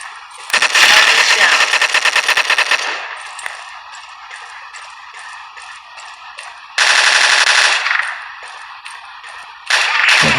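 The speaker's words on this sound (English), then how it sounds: "here's the AUG. As for the recoil, it's quite a bit less when you're not compensating for it." An AUG rifle firing in the online shooter game Strike Team Online, loud rapid full-auto bursts, three separate bursts with quiet gaps between them, the last one cut short.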